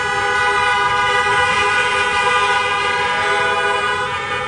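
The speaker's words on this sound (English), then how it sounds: "I never thought I would love the sound of horns before, but I love it." Many car horns honk together continuously at a drive-in graduation ceremony, forming a loud, dense, overlapping blare that holds steady throughout with no pauses.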